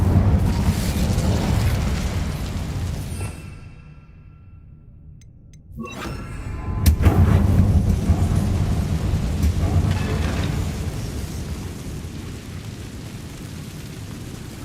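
A fire spell cast in the video game Hogwarts Legacy roars with a loud rushing burst that dips to near silence, then flares again with a sharp crack and a sustained whooshing rumble, no voices heard.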